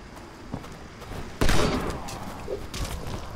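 A flare gun fires at a zombie in Dead Island Riptide, a sudden loud burst followed by a hissing, crackling tail that fades, with scattered game noise before and after.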